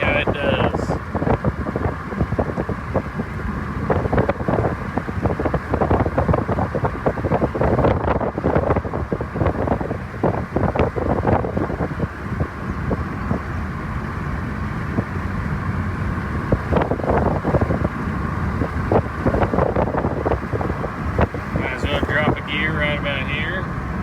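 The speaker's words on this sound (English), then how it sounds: "up here I'm going to start hitting the downshifts to see how it does" A $10 used car driven uphill while the driver works through downshifts, engine drone rising and falling under heavy wind buffeting on the microphone, with someone talking over it.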